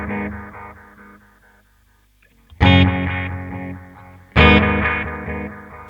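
Guitar through a Red Witch Titan analog pedal with two delays running in parallel, fading trails of repeats, a near-silent gap, then two loud chords each spilling into dense, layered echoes at close range, no talking.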